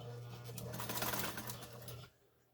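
A Montgomery Ward Signature sewing machine runs a straight stitch, a steady close mechanical whir with a low motor hum lasting about two seconds before stopping abruptly.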